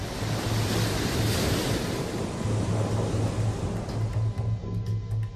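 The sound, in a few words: storm surge ocean waves and wind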